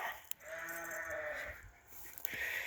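Arashan breed sheep and lambs in a farmyard pen, with a few clear bleats close by over a low background hum.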